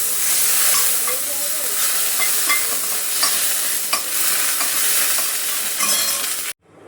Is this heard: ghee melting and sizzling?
yes